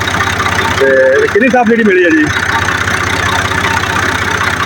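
A green farm tractor idles in a steady low, throbbing engine rumble that runs throughout while a voice speaks briefly over it near the middle.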